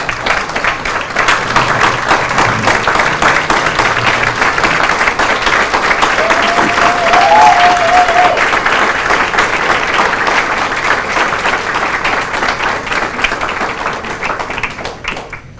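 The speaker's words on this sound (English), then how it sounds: "give them a round of applause." Sustained audience applause at a business breakfast and scholarship event honoring six recipients, loud and steady clapping from a sizable crowd that holds for over ten seconds before tapering at the end.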